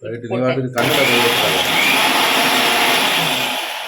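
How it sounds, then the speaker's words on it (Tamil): After a brief moment of talk, an electric kitchen mixer switches on abruptly, grinding mustard seeds with other ingredients in a loud, steady, high whirring roar that holds to the end. "கடுகு தனியா போட்டு அரையாது, அதனால இதோட போட்டு அரைக்கிறீங்களோ?"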